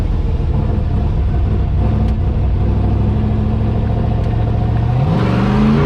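A drift truck's engine holds a loud, steady drone while it spins, then its pitch climbs near the end as it revs harder, close and continuous with no talk.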